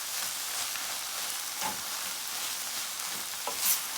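Smoked herring tossed with green onion and plenty of hot pepper, part of a Guyanese weekend spread, stirred in a pan over a steady hiss with a couple of soft scraping strokes.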